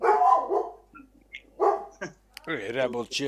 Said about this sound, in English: if the dogs hear that, yeah, then yeah, he barks. My guardian dog